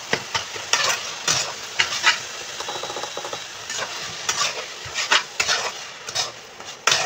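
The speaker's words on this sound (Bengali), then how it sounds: "এবার আমরা এটিকে ভালোভাবে নাড়বো।" Grated coconut mixed with powdered milk is stirred in a pan for coconut laddoo, repeated scraping strokes rising and falling over a soft sizzle, close and rhythmic.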